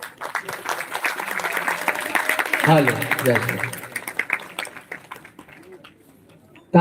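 Audience applause rolls on at a Hindu Ram Katha religious gathering, steady clapping from a crowd with a voice speaking over it.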